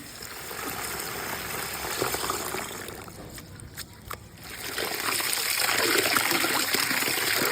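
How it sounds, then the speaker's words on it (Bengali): Tap water runs and splashes steadily in a home kitchen as raw chicken is rinsed for a biryani, dipping briefly midway before flowing harder again. "আপনি এক কাজ করে চিকেনটা ধুয়ে দেন আর চালটাও ভিজিয়ে দেন"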